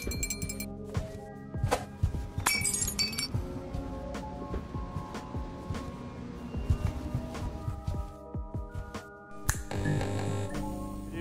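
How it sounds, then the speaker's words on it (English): Glass being struck repeatedly during a Tesla truck demonstration, a series of sharp clinks and thuds with ringing tones over a constant room hum, with a louder burst of impacts near the end. "You try to break this glass"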